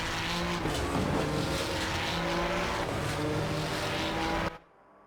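Ferrari 296 GT3 race car in Assetto Corsa Competizione at Kyalami, its engine roaring loudly and steadily as it accelerates out of a corner, then cutting off abruptly near the end.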